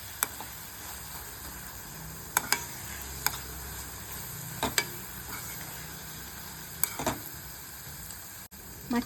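Masala for stuffed brinjal curry (badanekayi ennegayi) frying in a pan, a low steady sizzle broken by several sharp scrapes and clinks of a spoon stirring, with no talking.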